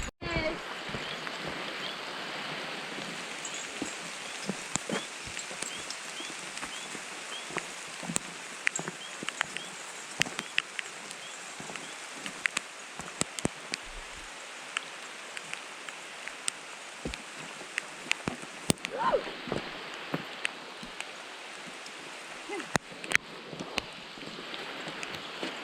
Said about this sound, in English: As you can see, it's raining quite a bit.